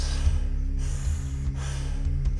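Slow, deep conscious breathing during a breathwork exercise, long steady breaths broken by brief pauses, close and fairly loud over a low constant hum.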